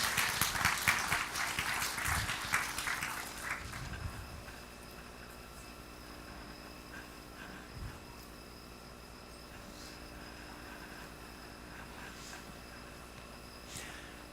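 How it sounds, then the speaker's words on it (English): Audience applause for conference speakers at a health technology conference panel, a dense burst of clapping over the first four seconds that quickly fades into quiet room tone. "And let's give them another round of applause for being..."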